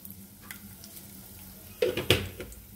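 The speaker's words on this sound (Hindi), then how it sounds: "इसी पे हम डाल देंगे 2 तेज पत्ता, 3 हरी वाली इलायची, 3 से 4 लौंग, 2 सूखी लाल मिर्च को तोड़ के" Bay leaves, green cardamom, cloves and broken dried red chilies drop into hot oil in a pan, starting a soft sizzle that swells into a few sharp crackles and pops near the end.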